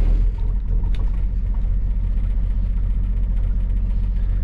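Diesel generator on a 2004 Newmar Dutch Star motorhome priming before start: a steady, loud low rumble and hum held evenly throughout with no breaks, no talk.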